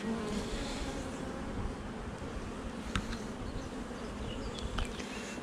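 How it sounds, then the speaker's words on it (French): Honeybees buzz steadily around an opened hive during a beekeeping inspection, a dense continuous drone close by with a few sharper passes of individual bees. "Ah, j'ai tué 2 abeilles"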